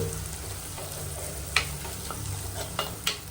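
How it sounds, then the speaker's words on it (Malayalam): Coriander powder fries in a pan as the base for a prawn and bottle gourd curry: a steady soft sizzle with a few sharp clinks of a spoon stirring against the pan. "ആദ്യം മല്ലിപ്പൊടി ഇട്ടിട്ട് ഒന്ന് ഫ്രൈ ആക്കുന്നുണ്ട്"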